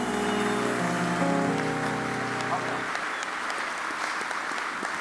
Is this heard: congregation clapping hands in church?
yes